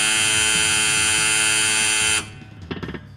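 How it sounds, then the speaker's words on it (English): A harsh, loud electronic buzzer drones steadily for about two seconds, then cuts off, leaving a few faint knocks and rattles. "He was interrupted by a loud buzzer and flashing lights"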